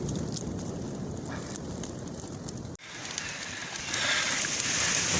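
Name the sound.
fire burning dry casuarina leaves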